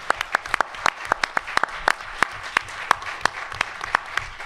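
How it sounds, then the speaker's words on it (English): A live audience claps for panelists at the end of a discussion session in a hotel ballroom, dense and steady applause with a few sharp individual claps standing out over several seconds. "I want to give them a round of applause."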